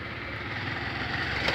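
A motorcycle engine runs with a steady, moderately loud mid-pitched drone that builds slightly toward the end, recorded outdoors without talking.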